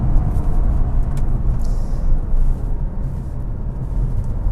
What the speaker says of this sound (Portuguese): Nesse trechinho aqui a gente consegue conhecer um pouquinho melhor a dinâmica do